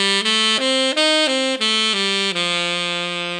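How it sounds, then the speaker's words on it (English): A regular dominant pentatonic scale phrase played as clean, sustained single notes in a jazz context, about eight tones stepping in an even rhythm, close and steady, with the last note ringing out. "So our regular dominant pentatonic would sound like this."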